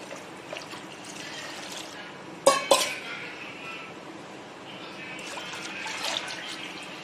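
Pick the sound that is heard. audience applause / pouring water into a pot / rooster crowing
pouring water into a pot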